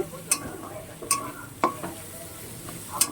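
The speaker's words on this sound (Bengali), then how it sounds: "পুরো লাল লাল করে ভেজে নিতে হবে এই চিংড়ি মাছের সাথে" Prawns with spices fry in a pan with a soft steady sizzle, punctuated by four distinct clinks and scrapes of a spatula stirring at irregular intervals.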